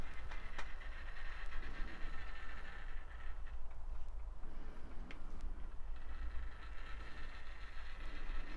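A model DCC locomotive running on Peco Code 75 bullhead track, uncleaned and straight from a regularly used layout, gives a steady low rumble and hum that carries on throughout with no speech.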